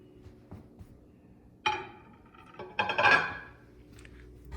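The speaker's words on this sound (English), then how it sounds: "I'm going to remove this tray, this glass tray" Glass turntable tray lifted out of a GE Cafe microwave, giving a few sharp glassy clinks and rattles with quiet handling noise between them, close up and without speech.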